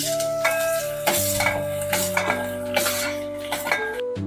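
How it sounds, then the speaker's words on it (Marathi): Eggplant pieces frying in oil in a kadhai for a village-style bharit, a steady broadband sizzle under background music, punctuated by a few clanks of a utensil against the pan. "वांग्याची पुढे मी कढईमध्ये टाकून घेतल्या"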